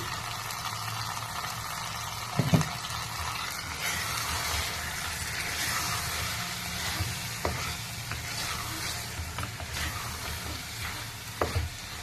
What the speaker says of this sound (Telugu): ఈ విధంగా ఆయిల్లో మనము వంకాయ కూడా కొద్దిసేపు వేపితే బాగుంటుందండి టేస్ట్